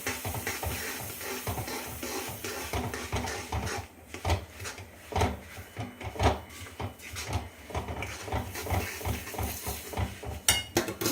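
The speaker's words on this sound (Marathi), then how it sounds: "आणि आता लगेच आपण हे तीळ टाकणार आहोत" Sesame seeds tipped into hot melted jaggery in a pan for til ladoo, followed by steady stirring: a continuous busy scraping and clatter of spoon against metal pan, close and fairly loud, with no speech.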